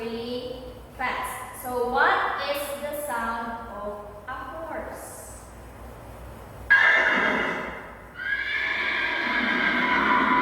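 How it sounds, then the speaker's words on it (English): A horse neighs and whinnies in several loud, wavering calls across the clip, with a longer, stronger whinny near the end and faint hoof clip-clops underneath. "So what is the sound of a horse?"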